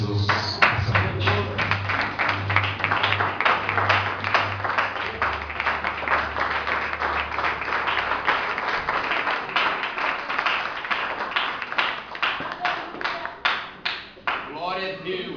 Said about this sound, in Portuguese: Assente-se e aplauda Jesus nessa noite